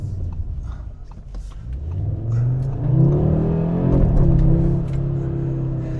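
Engine of a 2026 Audi RS3 pulling under acceleration while driving, a steady rising drone that builds in pitch and loudness midway, heard from inside the car with no talk.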